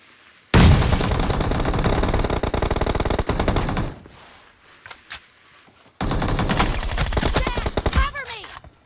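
Rapid automatic gunfire from a team-based shooter video game, a loud dense burst for about three seconds, a brief lull with scattered shots, then another sustained volley of rattling fire.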